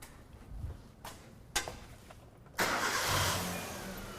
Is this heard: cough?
no